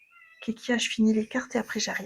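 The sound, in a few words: domestic cat meowing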